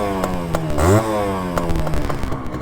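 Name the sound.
Honda CDI 100 motorcycle engine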